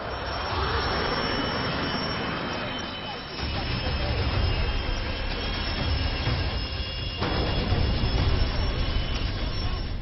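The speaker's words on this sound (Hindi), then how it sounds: "अनंत आकाश में गरजते फाइटर जेट्स" Indian Air Force fighter jets roar during an exercise near the China border, a loud, sustained broadband jet rumble that swells and shifts in intensity as they pass.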